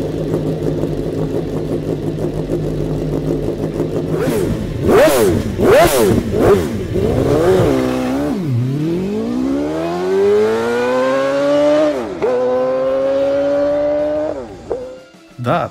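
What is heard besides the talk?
high-revving V8 motorcycle engine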